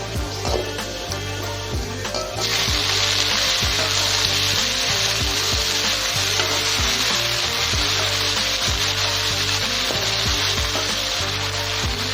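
Greens such as pulicha keerai (gongura) sauté in a pan, giving a steady loud sizzle with rhythmic scraping knocks from stirring throughout.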